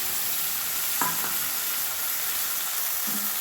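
Ground spice paste with tomato for a snakehead fish curry cooks over medium flame: a steady, even hiss of frying fills the clip, with a couple of faint utensil taps and no voices.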